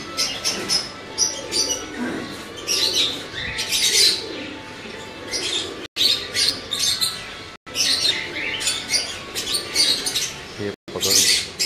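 Teddy and Ambala crossbred pigeons call and chirp in bursts close by, with someone speaking over them throughout.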